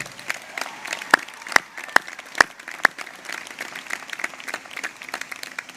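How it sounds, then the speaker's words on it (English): A crowd claps steadily throughout at a university convocation, with a few sharp, louder claps standing out near the start, the applause even and sustained. "Let's give them another round of applause."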